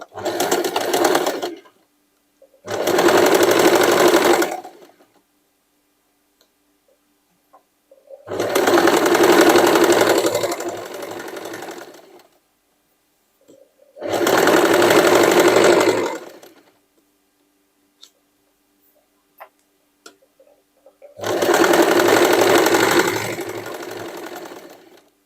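A sewing machine stitches a denim hoodie made from old jeans in five loud, close bursts of rapid mechanical whirring, each a couple of seconds long, with near-silent pauses between them.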